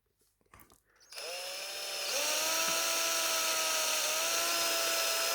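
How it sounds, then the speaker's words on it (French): A small power drill with a 2 mm bit bores through a part of a Funtek STX RC truck. After a few quiet handling knocks it spins up to a steady high whine, then bites in and holds a loud, continuous drilling tone with no speech. "on va prendre un forêt de 2 et on va percer"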